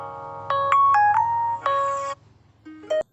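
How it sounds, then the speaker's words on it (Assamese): A phone rings during an outgoing call to a friend: a bright electronic melody of short tonal beeps, clear and close, with a brief pause before a final pair of higher notes. "ফোন এটা মাৰচোন তাক"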